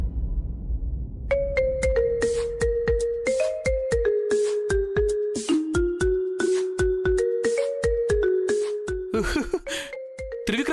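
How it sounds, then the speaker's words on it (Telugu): An incoming call sets off a phone ringtone: a loud electronic melody of steady, stepped tones that repeats for several seconds before ending in a brief burst of noise. "త్రివిక్రమ్ ఫోన్ చేస్తున్నాడు."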